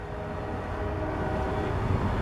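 A freight train approaches in Marion, Ohio, with a steady low rumble and faint tonal hum that swells slightly louder as it nears, heard alone without talk.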